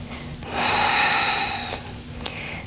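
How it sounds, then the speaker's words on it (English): One long audible breath, exhaled forcefully through the nose or mouth during a Pilates leg exercise with a resistance band, close and steady for about a second with no talk. "Breathing."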